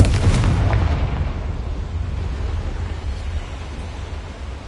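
Confringo spell explosion in the video game Hogwarts Legacy, a loud booming blast that opens with a punchy burst and then trails into a long rumbling roar, with no voices over it.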